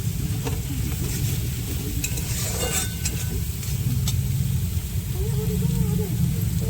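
Paneer and cauliflower frying in a pan while being stirred, a steady close sizzle with scraping of the spoon and occasional clinks, with some low background rumble throughout.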